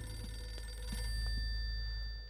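A telephone rings in the video game Eternal Darkness, a steady, faint electronic ring held over a low background hum with no one speaking.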